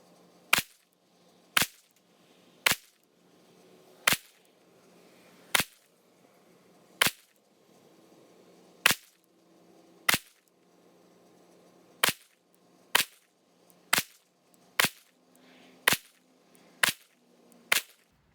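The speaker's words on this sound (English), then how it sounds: "So we're gonna slow fire this, 15 rounds, speed it up for time's sake." Fifteen slow-fire shots from an FN 509 pistol at a bullseye target 25 yards downrange, sharp loud cracks spaced about a second apart, the pace quickening toward the end, with no talking.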